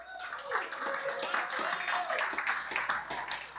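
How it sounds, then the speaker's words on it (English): Clapping from an audience at a national homebrew competition awards ceremony, a steady patter of many hands at moderate volume, with a voice talking over it. "You can still clap."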